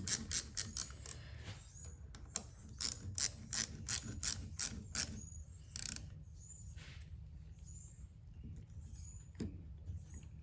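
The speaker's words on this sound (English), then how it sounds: "Get me a 9/16 wrench here." Stubby 9/16 wrench ratcheting on the brake valve of a John Deere New Generation tractor (6030, 3020 or 4020), fast clicking bursts in several runs with pauses, close and crisp, with no talk.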